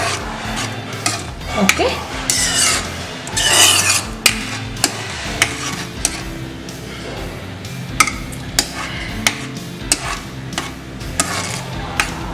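Moong dal is stirred with salt in a pot, giving repeated scraping and clinking of a spoon against metal in a steady rhythm, close by, with one brief spoken word.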